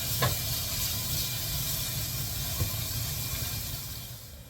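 Bacon sizzles in a hot pot with a steady broadband hiss that runs the whole time, close and fairly loud, with a couple of brief crackles near the start and middle.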